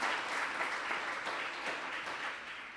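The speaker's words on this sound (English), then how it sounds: "let's give that some applause" Audience applause at a reproductive justice symposium, a steady dense wash of many hands clapping that fills the whole stretch at even loudness, with no talk over it.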